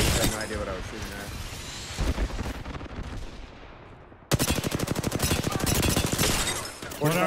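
Rapid automatic gunfire from a shooter video game, dense bursts of shots early, then a sustained loud stream of fire in the second half, with a player talking over it.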